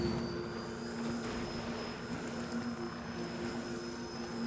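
A portal in the Guild Wars 2 video game gives off a steady mechanical hum like a revving motorcycle engine, with constant drone tones underneath a broad airy roar, continuous and fairly loud without any talking.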